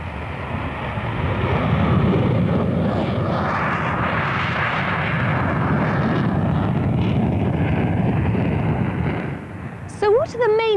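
Modern airplane flying past, a loud, sustained broadband engine roar that fills the whole clip and fades slightly near the end, where a short burst of other sound cuts in.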